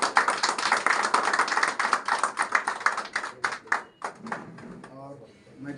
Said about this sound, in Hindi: जोरदार एक बार तालियां होनी चाहिए।